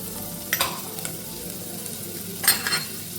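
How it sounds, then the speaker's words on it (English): Dry red chili and ginger sizzle and fry in a hot pot, a steady crackling hiss with a few louder stirring bursts, close and without talk. "The chili and the ginger is sizzling."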